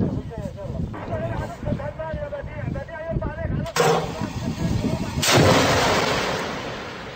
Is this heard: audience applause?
no